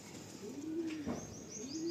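A white Madrasi pigeon coos softly and close by, a couple of low rolling calls over quiet background hiss.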